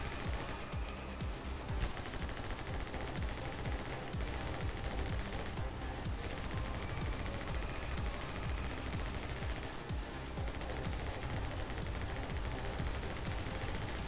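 Gunfire in the video game My Friend Pedro: dense, continuous rapid shots rattle nonstop for the whole stretch, loud and close, with no pauses.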